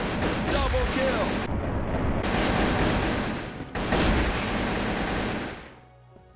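AK rifle fire in the CrossFire shooter game, with loud, dense bursts of automatic shots across most of the span, a short pause in the middle, then the firing trails off near the end.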